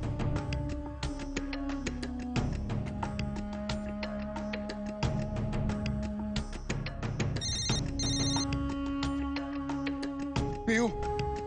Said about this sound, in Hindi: पीहू, जब बात नहीं करनी तो फोन क्यों किया है?